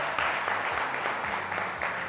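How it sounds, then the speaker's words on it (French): Game show studio audience applauding steadily, a dense sustained wash of clapping with a few brief low voice sounds underneath. "On applaudit pour eux."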